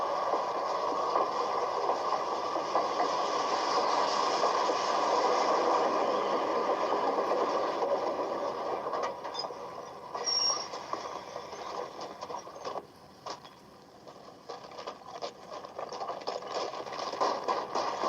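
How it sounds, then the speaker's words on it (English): A train rumbles along with a steady mechanical drone that fades and breaks into clanks and hisses as it slows, with no talking. "Engineer, stop the train."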